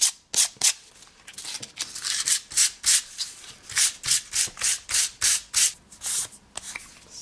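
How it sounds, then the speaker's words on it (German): Paper for a scrapbook page being roughened by hand with sandpaper, a series of about fifteen crisp, regular back-and-forth rasping strokes, close and clear with no talking. "Im nächsten Schritt werde ich das mit Sandpapier ein bisschen aufrauen."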